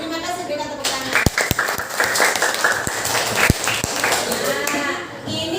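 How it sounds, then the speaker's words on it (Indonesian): A class of fifth-grade pupils claps together in a primary school classroom, a few sharp individual claps standing out over a steady patter of hands, with voices talking throughout. "berikan tepuk tangan"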